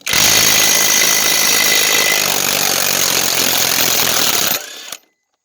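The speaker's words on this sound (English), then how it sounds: "it's a low impact, half drive. And it's taking these lug nuts off" A half-inch impact wrench works lug nuts off a one-ton Dodge Ram truck, giving a loud, continuous buzzing rattle for several seconds before it stops abruptly.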